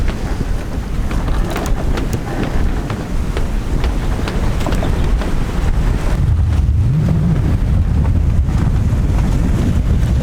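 Sailboat running under sail alone toward Guadeloupe, with a steady loud rush of wind buffeting the microphone and water hissing along the hull, a continuous roar without talk.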